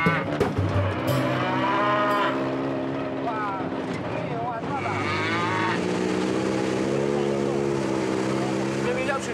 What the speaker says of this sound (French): Quant au 16e passager, il n'arrête pas de meugler son mécontentement.